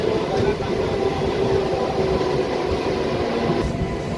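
A MEMU local train pulls out of Ghatkesar railway station, its broad rolling rumble steady and near, with a faint tonal whine riding on top and some background voices.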